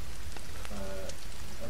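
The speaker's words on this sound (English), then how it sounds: "Bam, is this rain gonna stop or what?" Rain falls steadily in The Forest survival video game, a soft even patter of drops with a few brief tonal game sounds layered over it and no talking.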